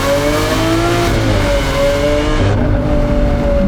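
A Lamborghini Aventador SV Roadster fitted with a Novitec exhaust roars loudly at speed on the Autobahn, its V12 holding a steady, droning, harmonic-rich tone close by, with a shift in pitch partway through.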